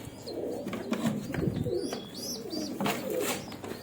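Pigeons in a breeding box coo steadily and softly, with low throaty calls overlapping over a constant background hum and occasional brief chirps, no talking.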